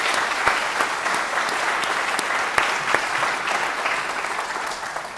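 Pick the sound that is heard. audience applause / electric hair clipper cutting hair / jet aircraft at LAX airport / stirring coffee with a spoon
audience applause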